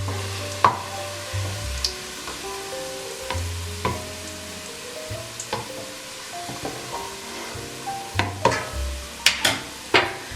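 Onions fry and get stirred in a pot for beef biryani, with steady close sizzling broken by repeated sharp spoon scrapes and clinks against the pan, growing busier toward the end.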